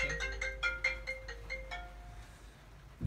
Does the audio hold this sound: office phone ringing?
yes